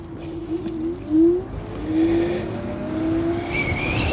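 An Inmotion RS Midnight Lite electric scooter accelerates smoothly on a trail in single-motor mode. Its motor gives a rising whine that climbs in pitch over wind and rolling noise, close to the rider.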